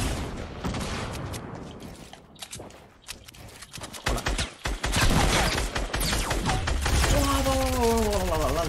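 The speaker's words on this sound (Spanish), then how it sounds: "Me están disparando por la espalda, amigo." Gunfire in Fortnite crackles in dense bursts alongside shifting game sound effects and music, loud and close throughout, with a player talking over parts of the action.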